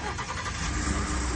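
A Ford F150 with the 3.5 engine, fresh from cam phaser work, starts up and settles into a steady running rumble, with voices faintly in the background.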